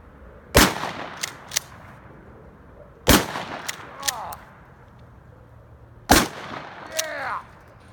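A Mossberg Shockwave shotgun blasts a small freezer: three loud, sharp shots about three seconds apart, each followed by metallic ringing and clatter, with faint voices in the background.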